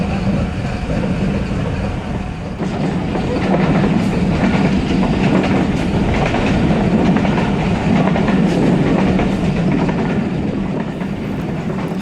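The Karachi Express, hauled by two GEU40 locomotives with over thirty carriages, runs along the Multan to Lahore line in Pakistan at about 50 km/h, a loud continuous rumble with rhythmic wheel clatter heard from on board, without speech.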